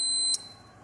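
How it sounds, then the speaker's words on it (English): A Lee Press low primer alarm sounds a steady high electronic tone that cuts off abruptly after about a third of a second, leaving faint room noise. "As soon as I pull that out, there's no part there, the alarm goes off."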